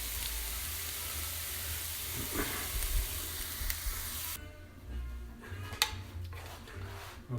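Salmon fillets sizzling in a pan, a soft, steady frying hiss under some quiet background noise, dropping lower partway through.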